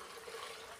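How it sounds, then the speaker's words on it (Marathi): Water poured into a pan for amti, a faint steady splashing trickle that lasts under a second. "ह्याच्यात पाणी टाकते मी आमटीपुरतं"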